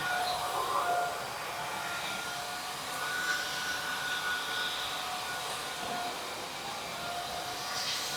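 A Numatic 244 NX floor scrubber runs with its vacuum motor going, a loud steady whining roar with a faint high tone on top, holding constant and heard alone without talk.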